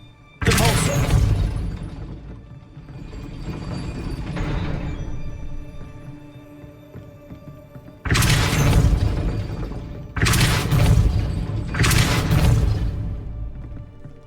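A spell is cast in Hogwarts Legacy, heard as four forceful blasts with a shattering, whooshing burst, two close together near the end, loud and with no voices over them.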